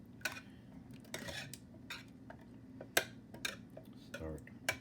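Butter is whisked in a pan in Red Dead Online, with irregular light metallic clinks and taps of utensil against cookware at close range over a faint background hum.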